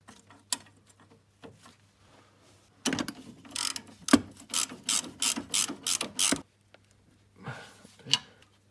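A ratchet tightens a suspension bolt on a Ford ST150 while it is lowered on new springs. Several close bursts of rapid, crisp clicking come in quick succession, with short pauses between them.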